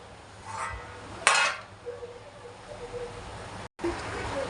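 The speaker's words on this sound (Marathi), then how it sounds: "तर आपल्याला याच्यावर ठेवायचं आहे झाकण" A metal lid is set down on a pot of Sindhi kadhi, giving one sharp clank around the middle of a quiet kitchen stretch, followed by faint clinks.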